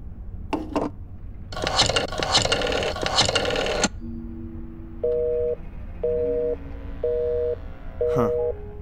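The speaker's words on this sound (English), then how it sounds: "I just wanted to call my mother, but it was busy." Telephone busy signal in the video game Black Mirror 2: a steady repeating two-tone beep pulsing on and off four times at an even rhythm, following a burst of handset clatter and dialing.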